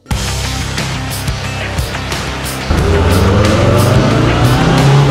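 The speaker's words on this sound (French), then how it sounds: "Ça y est, ça accélère pour les Lamera." Lamera Cup race cars accelerating together off the start of an eight-hour endurance race at Dijon, a loud continuous roar of many engines that swells and rises in pitch partway through, with no voices.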